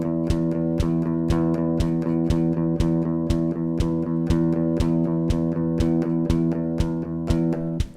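A guitar chord is strummed in steady eighth notes, about sixteen even attacks at a moderate pace over a sustained ringing tone, heard alone with no talking.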